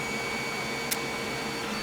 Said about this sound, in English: The 3D printer is still printing it